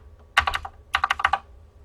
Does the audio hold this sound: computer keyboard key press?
yes